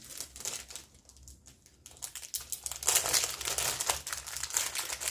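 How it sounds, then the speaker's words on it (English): Plastic packaging wrapped around a piece of fabric crinkles and crackles steadily, close and fairly loud, with denser rustling after a brief quieter stretch. "sorry for the crinkling"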